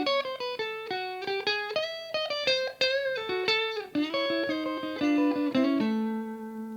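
An electric guitar plays a blues lick alone: a quick run of clean, distinct picked notes with bends and slides, settling into a sustained final note that rings out and fades.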